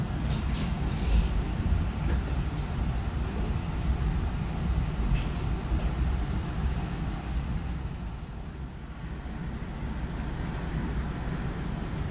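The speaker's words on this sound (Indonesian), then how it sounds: "kereta api Turangga Panoramik telah tiba dan berhenti di stasiun Kertosono" The Turangga Panoramic passenger train stands at Kertosono station at night, giving off a steady, loud low rumble and hum that holds evenly throughout with no voices.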